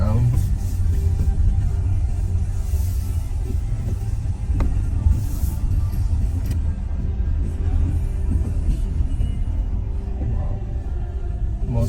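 Car driving around town on wet, slushy roads after a snow storm, with steady low engine and road rumble and tire hiss throughout, heard from inside the vehicle.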